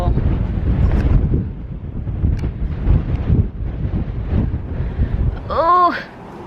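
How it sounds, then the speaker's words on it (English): Strong spring wind roars and buffets the microphone in a garden with seedling transplants, gusting continuously throughout, and a short voice exclamation rises near the end. "This wind is just out of control."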